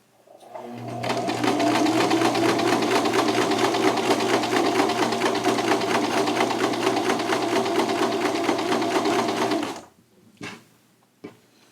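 Sewing machine stitching a polo shirt, a loud steady rapid whir of the needle running continuously for about ten seconds before stopping, followed by a couple of faint handling knocks.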